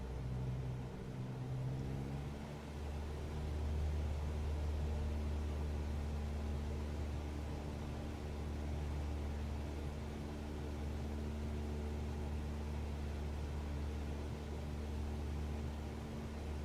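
A Cessna 182 engine throttles up in Microsoft Flight Simulator 2024, its low droning hum rising in pitch over the first few seconds and then holding a steady, even engine tone at moderate volume.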